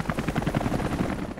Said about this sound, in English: There's an helicopter.